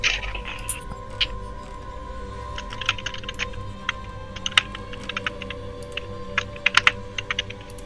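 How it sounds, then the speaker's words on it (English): Rapid clicky typing on a computer keyboard in irregular bursts of keystrokes, fairly close, over a steady low hum, with some faint background talk. "Oh no, he's typing."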